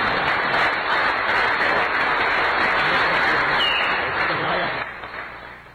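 Studio audience at a French TV variety show applauding a three-time European champion, steady dense clapping throughout that fades toward the end.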